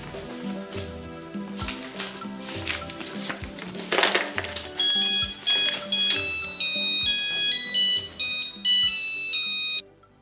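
A phone ringtone sounds as a call is placed to Kevin, a repeating electronic melody in short pulsed bursts with a few knocks and clinks early on, moderately loud and without talk.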